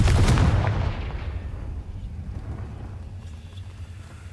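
A Confringo blast spell fires in Hogwarts Legacy, a loud booming burst up front that rolls out into a long rumbling decay, heard alone and up close.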